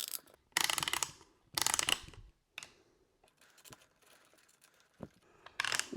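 Bar and chain being fitted and tightened on a SEESII 16-inch chainsaw, heard as several loud, close bursts of ratcheting and scraping metal separated by pauses and fainter clicks, with no talking.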